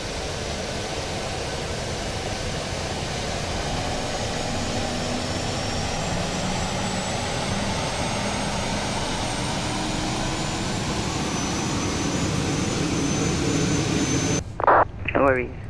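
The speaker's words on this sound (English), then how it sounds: "We are starting the APU now, so stand by for ground power disconnection." An Airbus A380 auxiliary power unit spools up in the MSFS 2020 flight simulator, a FlyByWire Qantas A380. A steady, loud roar runs throughout with a faint rising whine above it, and a brief clatter and voice break in near the end.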